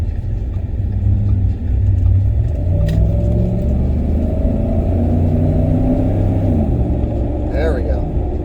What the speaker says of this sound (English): Let's do a little acceleration here as well.